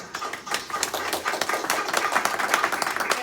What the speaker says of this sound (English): All right, round of applause for that.